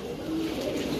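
Dragon pigeons at a large pigeon farm give a low, soft cooing that hums steadily and close for about a second.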